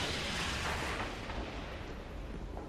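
Hand cannon gunfire in the video game Destiny comes as a dense, loud rumble of booming shots and blasts that run together across the clip without a break.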